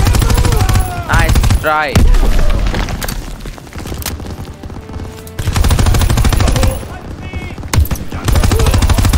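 Loud, close bursts of rapid gunfire and booming shots from the video game Call of Duty WWII, some stretches dense and continuous, others briefly quieter, with players talking over the shooting.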